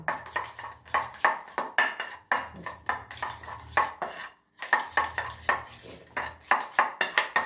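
A spoon stirs an orange-peel soap mixture in a bowl with steady, rhythmic scraping and clinking against the sides, close and fairly loud, pausing briefly partway through.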